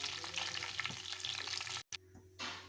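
Chicken deep frying in hot oil, a dense steady sizzle and crackle with occasional stirring clinks, broken by a brief dropout near the end before the sizzle returns.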